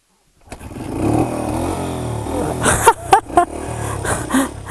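A Honda CRF 80F motorcycle engine starts and runs with a rough, steady idle, then is revved in several quick throttle blips, loud and close.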